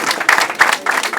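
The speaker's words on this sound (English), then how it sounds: "please be outstanding as we give him a very, very big round of applause" An audience at a Nigerian Customs Service handover ceremony applauds loudly and steadily, with dense clapping in uneven surges throughout the short burst.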